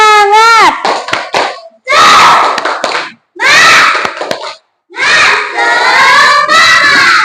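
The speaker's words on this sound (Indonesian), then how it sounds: "Kita semuanya tepuk semangat ya" Classroom of children doing the tepuk semangat clapping chant, loud chanted bursts with sharp rhythmic hand claps in several bouts separated by brief pauses, voices shouting together up close.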